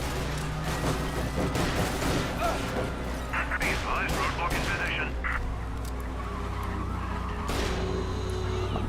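Gunfire in Mafia: Definitive Edition, bursts of shots mixed with loud car engine noise and tire skids during a chase, with talk over it.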